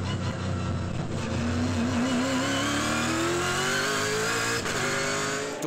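A race car engine pulls hard out of a slow hairpin during the Hampton Downs 1000 endurance race, its pitch rising steadily as it accelerates, loud and close throughout.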